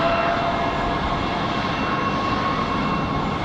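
An Airbus A220-300 arriving from LaGuardia at Raleigh-Durham airport gives a steady, broad jet roar, continuous and fairly loud, with wind noise and no talking.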